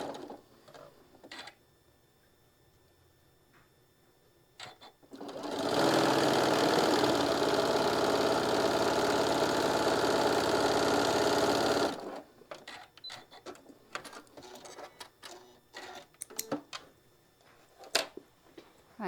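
A sewing machine runs steadily for about seven seconds, stitching straight down a fabric edge while piecing a stained glass quilt block, with quieter handling clicks and rustling before and after.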